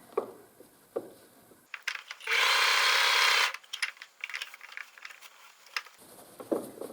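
A sewing machine stitches a fabric scrunchie in one steady buzzing run of about two seconds, framed by light clicks and fabric handling before and after.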